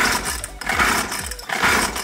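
A mini motorbike's small engine sputters as someone tries to start it, probably short of fuel, giving a rough, uneven churning in two bursts close to the microphone.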